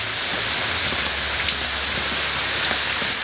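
Steady rain falling outdoors on surfaces, a loud, dense and continuous patter close by, with no voices.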